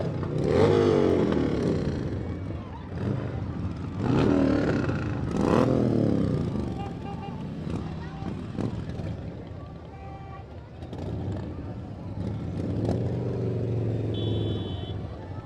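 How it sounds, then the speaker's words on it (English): Harley Davidson motorcycles ride past in the Bakersfield Christmas Parade, engines rumbling and revving loudly in repeated surges, with a crowd and street noise around them and a voice talking over the engines. "taking in the sights and sounds of a Harley Davidson right there"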